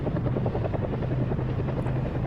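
Medical evacuation helicopter heard close and steady, with a continuous rotor thump and engine drone throughout and no voices.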